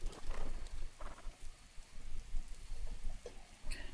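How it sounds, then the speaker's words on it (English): Steady rain falls in a continuous hiss with scattered patters of drops on surfaces, moderately quiet and unbroken, with no voices. "Stupid rain."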